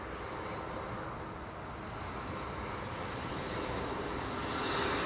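A jet airliner arrives at Schiphol on the Kaagbaan runway, a distant steady engine roar that slowly swells louder as it approaches, with no talk.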